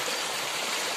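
Monsoon floodwater rushes across a flooded road in heavy rain, a dense, continuous broadband roar filling the whole moment, close and loud with no voices.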